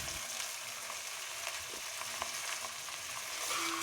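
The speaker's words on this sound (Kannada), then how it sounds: "ಚೆನ್ನಾಗಿ ಎಣ್ಣೆಯಲ್ಲಿ ಫ್ರೈ ಮಾಡ್ಕೊಳ್ಬೇಕು" Sheep head meat frying in oil with browned onions, a steady soft sizzle and crackle throughout, moderately loud and close, with no talking.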